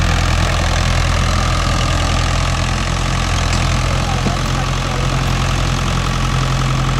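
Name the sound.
Mahindra 575 DI tractor engine pulling cultivator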